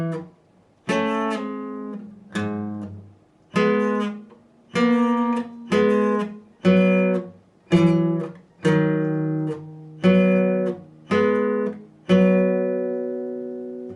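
Electric guitar plays an intro slowly, each chord or lick struck cleanly and left to ring in a steady, unhurried sequence of about a dozen distinct attacks, close and clear with no voice.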